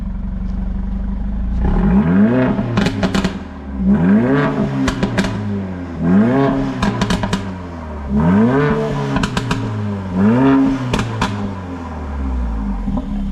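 A Mercedes-AMG CLA 45 engine revs up repeatedly in long surges, each followed by sharp crackling pops from the exhaust as it drops back to idle.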